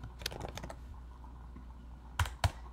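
Short flurries of keys are tapped on a computer keyboard, close up and fairly quiet, followed by two sharper, louder clicks near the end.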